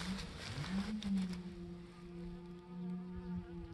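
Honey bees buzz around a hive entrance during robbing, a close droning hum with individual bees passing by, their pitch wavering as they fly near.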